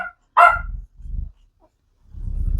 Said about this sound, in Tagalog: nag-iingay yung aso kasi dumating yung sasakyan.